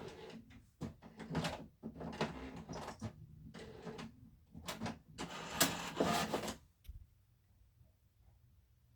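An office printer/copier starts up on its own, giving a run of mechanical clicks, whirs and paper-feed clatters in bursts, fairly close, before falling quiet.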